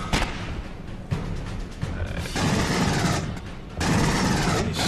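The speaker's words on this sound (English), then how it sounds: "She was shooting at the wall." Rapid gunfire in Aliens: Colonial Marines, a sci-fi shooter, rattles in loud sustained bursts with short pauses between them, filling the space with harsh, dense noise.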